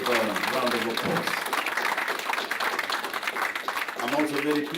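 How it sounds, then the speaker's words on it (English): Audience applauding two student logo designers at a prime minister's unveiling of Fiji's COP 23 logo, a sustained round of clapping between moments of speech from a presenter. "give them both a round of applause"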